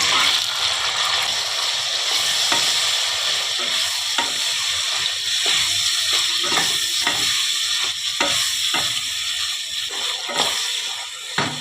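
Sliced capsicum and onion fry in a pan with steady close sizzling, while a spatula scrapes and stirs in repeated strokes.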